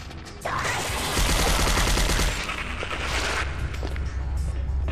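A rapid-fire nail gun shoots in the Half-Life mod Poke646, a fast burst of closely spaced shots lasting about two seconds over loud, dense game noise.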